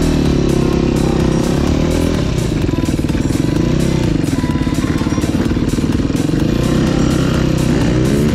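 A motorcycle revs hard and pulls away at a gravel pit, its loud buzzy engine climbing in pitch with rapid rhythmic firing, close and continuous, shifting tone midway as it accelerates.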